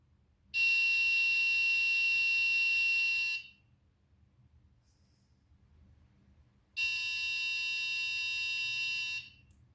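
A loud, steady electronic buzzer on an MQ-2 gas sensor with an Arduino Uno, triggered by smoke, sounds twice, each blast lasting about three seconds, with a quiet pause between and faint low background hum.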